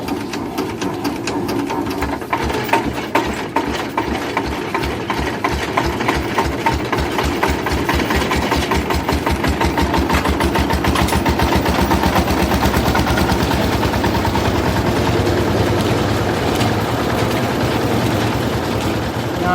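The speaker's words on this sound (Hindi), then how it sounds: "ये इंजन लगा हुआ है, ये रुई मशीन लगा हुआ है, ये हम यहाँ धुनाई करते हैं।" Engine-driven cotton carding machine shredding old torn clothes into stuffing, a loud continuous rapid mechanical thrumming and clatter that holds steady throughout with no talk.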